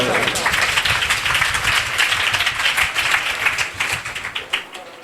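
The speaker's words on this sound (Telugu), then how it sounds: "అందరూ చప్పట్లు కొడతాము" A congregation claps together during a Saturday church service, loud and steady rhythmic clapping that thins and fades toward the end, with a voice speaking over it.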